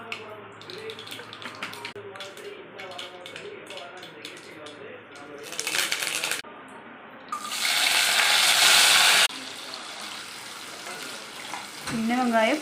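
Mustard seeds frying in sesame oil for a simple fish curry, with bursts of sizzling and crackle that grow louder toward the end, after a stretch where a voice talks over quieter kitchen noise.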